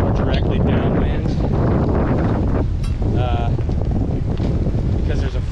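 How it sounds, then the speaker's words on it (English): Steady wind roar and broadband rain or spray noise surround a Beneteau 281 sailboat running downwind under a squall, loud and continuous throughout with brief whistling gusts. "Sailing in the rain, so a little bit of everything here."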